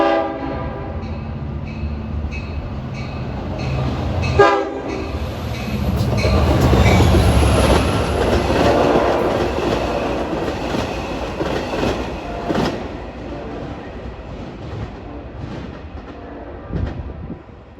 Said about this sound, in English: And approaching at 4:14 is train 656, en route from Hunters Point Avenue, Long Island City to Port Jefferson.